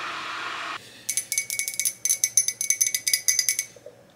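Cups and dishes clinking while tea is made: a brief hiss first, then a quick run of about twenty close, bright, glassy clinks and rattles in an uneven rhythm that stops near the end.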